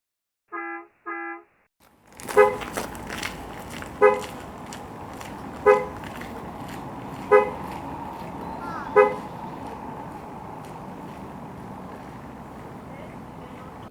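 After two short tones, a BYD car horn, triggered remotely by app, gives five short beeps at even intervals over a steady background hum, each beep brief and clear.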